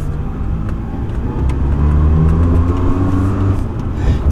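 A Ferrari 308 pulls away with a steady, close engine rumble that rises in pitch as it gains speed, low harmonic tones sweeping upward over road noise, with no talking.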